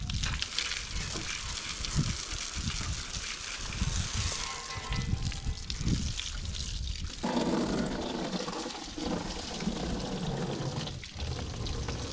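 Water spraying and rinsing a car wheel rim after applying a budget rim cleaner on a ceramic-coated car, a steady loud hiss of spray running throughout, shifting in tone partway through.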